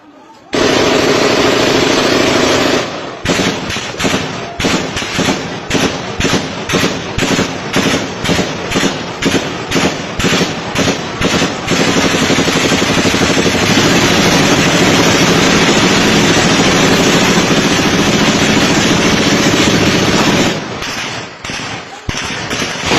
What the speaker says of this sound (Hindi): बड़ी गन्स भी चल रही हैं